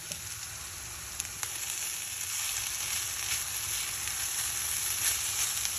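Rice with onion and egg omelette frying in a hot pan, a continuous close sizzle with a few light stirring clicks, no voices.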